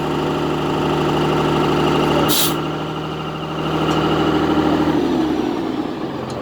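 A Class A truck's diesel engine idles loudly and close with a steady droning rumble and a faint clattering pulse, and a short sharp click cuts through partway.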